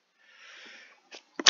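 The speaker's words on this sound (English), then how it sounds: "I had to take a quick sneeze." A single person's sneeze: a faint breathy intake builds up, a short catch follows, and then a loud sharp burst ends it, close to the mic with no talking.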